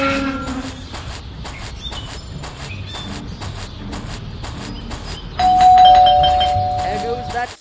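An electronic doorbell in an animated Scary Teacher 3D house rings with a repeated chiming tone, steady and fairly loud over background noise, swelling into a brighter, louder ring near the end.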